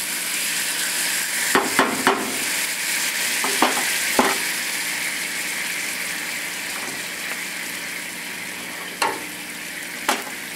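French toast topped with maple syrup sizzling in a frying pan: a steady, close hiss of frying with a few faint clinks and scrapes from stirring, no voices.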